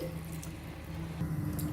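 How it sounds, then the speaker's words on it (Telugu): Water pours steadily into a pot of cooking dal with raw mango and greens, a close, continuous trickle and splash that swells slightly near the end, with no voices. "కొద్దిగా నీళ్లు వేసేసుకోవాలి"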